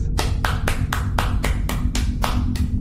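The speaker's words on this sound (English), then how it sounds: "Round of applause, everyone." Hand clapping during a round of applause at the close of an online show, about a dozen sharp, evenly spaced claps that sound like a single person nearby, with a steady low hum underneath.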